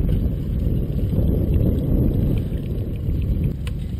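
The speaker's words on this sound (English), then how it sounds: "we're sailing." A yacht under sail on open water, with a loud, steady rumble of wind buffeting the microphone over the water noise and no voices.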